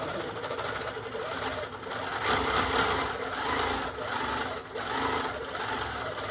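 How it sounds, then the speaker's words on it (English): A Handi Quilter longarm quilting machine stitches in a fast, steady mechanical chatter, fairly quiet and close, with slight swells in intensity as it sews continuously. "We're just going to start sewing it here."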